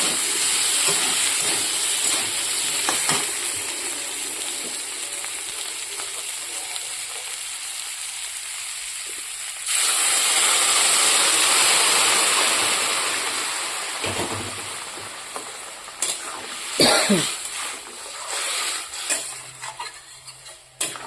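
Water is poured into a pan of sautéed vegetables, setting off a loud, bubbling sizzle and hiss that surges and fades. A few clanks of stirring come through near the end.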